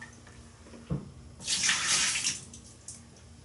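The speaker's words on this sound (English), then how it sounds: "Just use some cold water just to give it a swirl." Cold water sloshes and rushes briefly inside a home-brewing container, a close splashing swirl lasting about a second before settling, with a small knock beforehand.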